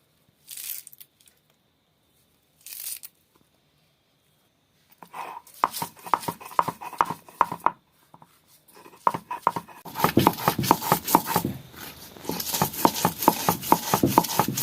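Coriander leaves being ground into a paste for a green curry, rhythmic rubbing and scraping strokes that start sparse and grow denser and louder, close up with no talking.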